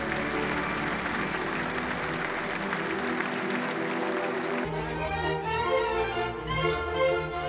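A large indoor crowd of about 1000 guests from politics, business and culture at a Bayer anniversary gala applauds in a dense, steady roar of clapping, shifting partway into a thinner, more distinct patter.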